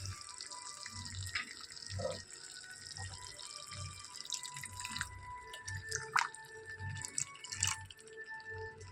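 Water is poured into masala frying in oil for an egg curry gravy. It comes as soft, faint splashing and trickling with scattered drips and kitchen clatter, and no voice is heard.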